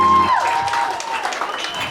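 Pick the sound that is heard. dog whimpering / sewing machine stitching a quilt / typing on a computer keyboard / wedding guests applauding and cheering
wedding guests applauding and cheering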